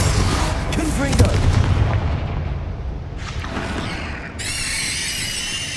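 In Hogwarts Legacy, a fire spell detonates with a deep booming blast near the start, its rumble fading over a couple of seconds before other game effects and a bright ringing tone take over.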